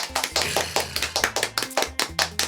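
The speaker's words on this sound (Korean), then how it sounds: "박수" A small group claps briefly, a quick run of sharp hand claps at close range, welcoming a guest on a gaming talk show.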